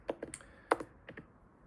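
Light, scattered keystrokes on a computer keyboard, a handful of quiet irregular clicks with short pauses, nearby and soft with no talking.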